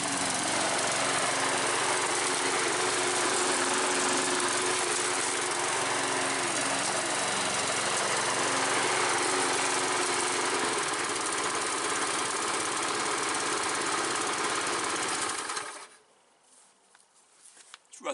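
Pedestrian lawn mower engine running smoothly after a service, a loud steady drone that holds for about fifteen seconds before cutting out to near silence.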